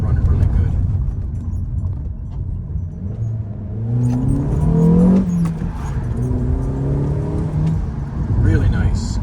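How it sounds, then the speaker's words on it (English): A car engine, running well after an ignition coil replacement, revs up and shifts through its gears in rising and falling pulls, heard from inside the car at moderate volume. "I'll go through her gears a bit here now after I clears this little bump there and show you that she's running really good"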